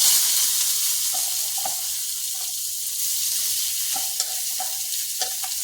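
Onions fried in a pan produce a loud, steady hiss of hot oil with occasional light stirring taps, close up and unbroken, no voices.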